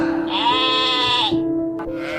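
Sheep bleating close by in a farming area, one long wavering bleat with bright harmonics that breaks off, followed by a brief click and a softer second call under a steady hum.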